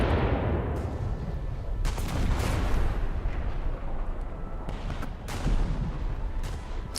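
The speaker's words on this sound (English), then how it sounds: "So we'll just open fire." Heavy naval guns firing from a Russian cruiser in World of Warships, several booming salvos with long rumbling tails that overlap, loud and close, a few sharper reports standing out among them.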